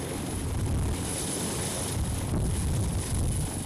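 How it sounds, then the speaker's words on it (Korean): A rescue helicopter's rotors keep a steady, loud, continuous whir and wash at an air rescue unit's landing area after a training flight, with no voices heard. "쉴 새 없이 돌아가던 헬기 프로펠러도 이제야 멈춘다"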